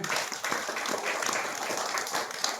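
Applause at a primary school event, steady clapping from a crowd that stays fairly even throughout.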